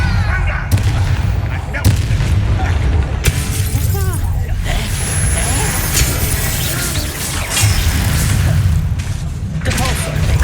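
Spell impacts and blasts from the repelling Depulso charm in the Hogwarts Legacy video game, booming and crackling in repeated bursts over a dense, loud game soundscape with speech present.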